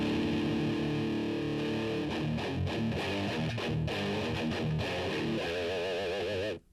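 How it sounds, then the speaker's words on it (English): A heavily distorted heavy metal guitar tone played through a Fender Cyber-Twin amp, dense sustained chords and choppy riffs with a wavering held note at the end before cutting off abruptly. "there's my heavy metal stack"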